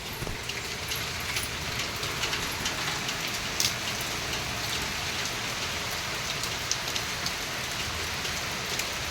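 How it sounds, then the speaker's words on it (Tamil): Heavy rain pours steadily at a market in Odisha, a dense, continuous hiss with scattered close drops and splashes, no voices. "இங்கே பாருங்கள், மழை வந்துட்டு இருக்குது, சரியான மழை."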